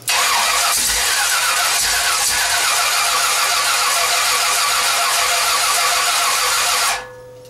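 A 350 V8 engine being broken in cranks and runs loudly and steadily for about seven seconds, close by, then cuts off abruptly, leaving near silence.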